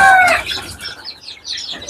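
Desi chickens on a farm cluck and call in short bursts, close by, with a louder squawk at the start and scattered softer clucks after, no talking.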